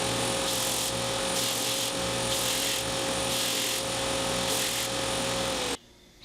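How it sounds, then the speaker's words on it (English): An edge sander works a laminated guitar rosette ring flat, giving a steady, loud motor whine with a rhythmic pulsing grind. It cuts off abruptly at the end. "Now I'm going to use my edge sander to sand off all these marks, get the surfaces perfectly flat and smooth"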